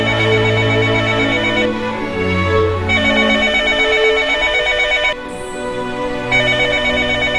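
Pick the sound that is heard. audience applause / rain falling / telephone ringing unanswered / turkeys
telephone ringing unanswered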